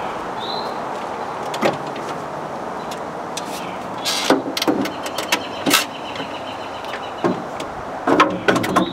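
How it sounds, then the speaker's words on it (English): A car engine idles steadily with the hood open, in good running condition, under a broad, even rumble punctuated by scattered clicks and knocks. "Engine is still running good condition."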